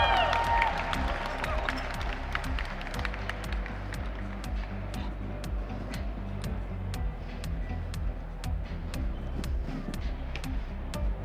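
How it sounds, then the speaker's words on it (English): Spectators at the US Barista Championship finals in San Francisco clap for a competitor's cappuccinos, a moderate, fairly even patter of hands that holds steady throughout, with some sharper claps rising above it. "Let's have a round of applause for Bryan's cappuccinos"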